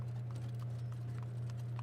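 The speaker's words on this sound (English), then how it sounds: "No, it sounds like a horse carriage." Distant horse-drawn carriage in the RPG Maker game By Day and Night, a faint steady clip-clop of hooves over a constant low hum, with no one talking.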